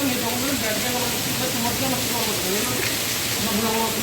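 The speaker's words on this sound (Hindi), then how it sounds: "बारिश हो रही" Rain falls in the narrow lanes of Vrindavan, India, a steady broadband hiss running throughout while people talk over it.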